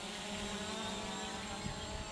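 An SJRC F11 drone flies in speed mode 2, its propellers giving a continuous close, fairly loud whirring buzz with a steady pitch, and no voices.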